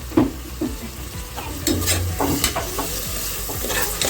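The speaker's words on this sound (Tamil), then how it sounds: "கொஞ்சம் நல்லா வதக்கி விடுவாங்க இப்போ அதில் வாசம் போக வரைக்கும் வதக்கிப்போம்" Onions sauté with ginger garlic paste in a pot for mutton biryani, a close, steady sizzle broken by the scrape and knock of a spoon stirring against the metal.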